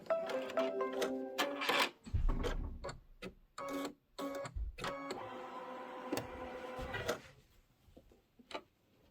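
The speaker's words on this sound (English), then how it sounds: "I'm going to let it do the tack down stitch." An embroidery machine runs a tack-down stitch across quilt batting for a Kimberbell Candy Corn Quilt Shoppe quilt, giving a close whirring hum with sharp rhythmic clicks, brief pauses and a few restarts.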